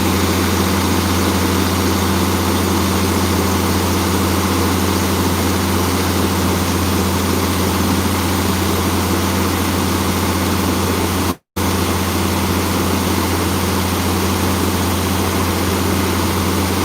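An International 9130 truck engine runs with a loud, constant low rumble close by, interrupted only by a momentary dropout.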